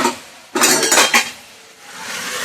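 A metal lid set onto a kadhai of beans cooking with turmeric and salt, a few quick clanks and rattles close up, then quiet room noise.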